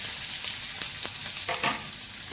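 Finely chopped onion drops into hot oil with bloomed cumin seeds, giving a soft, steady sizzle and frying hiss with a few clicks of stirring, quiet and close with no talk.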